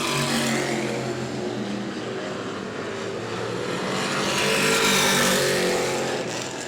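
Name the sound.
race cars racing at New Smyrna track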